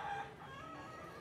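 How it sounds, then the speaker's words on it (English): Chickens wandering a crowded slum street in Cebu City, Philippines, give a faint clucking call over a steady murmur of street ambience, fairly distant and brief. "Chickens everywhere."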